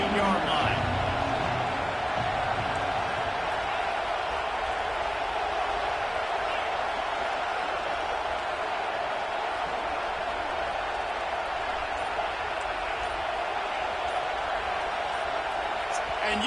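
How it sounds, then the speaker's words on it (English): A stadium crowd roars steadily throughout an NCAA 26 college football video game, a dense, sustained wash of noise that stays loud for the whole stretch, with a commentator talking over it. "The roar of the crowd trying to fuel this defense to keep them pinned in their own end."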